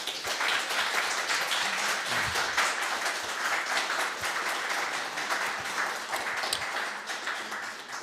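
A conference audience at the MediaWiki Users & Developers Conference claps steadily in dense, sustained applause that holds at an even level throughout.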